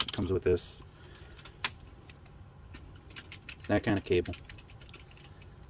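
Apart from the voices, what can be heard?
mechanical keyboard typing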